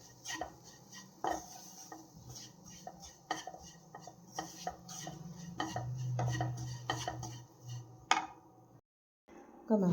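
Spoon stirring chili powder and other spices in a cooking pan for a tamarind fish curry, with close, irregular metallic scrapes and clinks against the pan, sometimes knocking, before a brief pause near the end.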